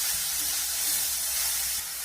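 Salted vegetables sizzle in a hot pan as they are stirred, a dense, close hiss that holds steady and eases slightly at the end.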